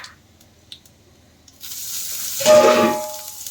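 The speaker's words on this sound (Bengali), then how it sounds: "এবার তেলের মধ্যে দিয়ে দেওয়া হচ্ছে কালো জিরে ফোড়ন। আর দেবো রাঁধুনি।" Nigella seeds and radhuni spice hit hot oil, starting with a few quiet clicks before a sudden sizzle bursts in and swells to a loud, close crackling hiss that slowly settles.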